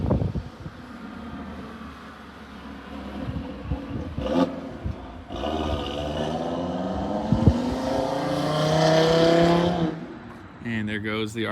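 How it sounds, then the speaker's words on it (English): An Audi RS3 drives past outdoors, its engine note rising and swelling as it nears and then fading away, with wind buffeting the microphone and a brief voice at the end. "And there goes the RS3."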